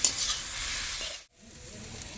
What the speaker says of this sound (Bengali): আমি এবার তেল দিয়ে হলুদ লবণ লঙ্কা দিয়ে একসঙ্গে শাকটা ভালো করে একটু ভেজে নেব